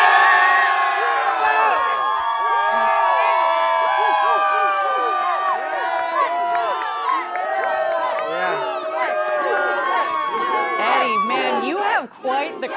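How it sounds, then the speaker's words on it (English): A large crowd cheers, whoops and shouts continuously at a rocket launch viewing site for Blue Origin's New Glenn, loud and dense throughout with voices blended into a steady roar. "Quite the crowd down there"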